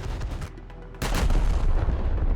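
Tank autocannons fire in War Thunder: a low rumble, then one sharp, loud blast about a second in, followed by a booming, echoing tail.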